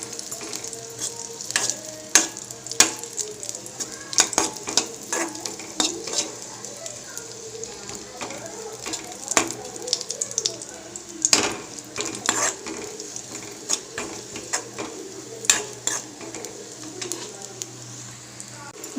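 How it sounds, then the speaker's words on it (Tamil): Ghee sizzling in a pan as dates and nuts are sautéed, a steady soft frying hiss under sharp clinks and scrapes of a stirring spoon, close up, with a voice talking over it. "நெய்யிலே நல்லா வதங்கட்டும்."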